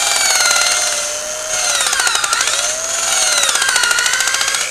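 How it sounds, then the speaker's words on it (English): A power drill with a long extension and a short bit bores into ice, a loud steady whine with rapid chattering pulses that dips in pitch twice under load and then recovers. "I use the long extension because if I don't, the drill chuck hits and I want to go in straight."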